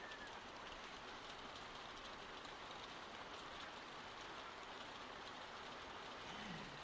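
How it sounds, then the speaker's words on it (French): Steady rain falls outside in a video game, a continuous, even hiss with no voices and no change in intensity throughout. "Il pleut dehors, c'est bien ça que j'entendais."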